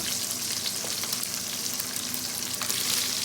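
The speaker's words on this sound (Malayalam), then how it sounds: "വെണ്ടയ്ക്ക കൂടി ചേർത്തിട്ട് ഒന്ന് വഴറ്റുക" Okra is sautéed in a pan for sambar, producing a steady close sizzle and a continuous frying hiss with faint stirring and no voices.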